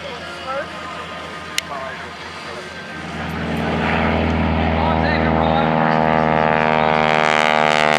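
An SNJ Harvard propeller plane at an air show grows from distant to a loud, close, steady droning roar, while people chat nearby under it at the start.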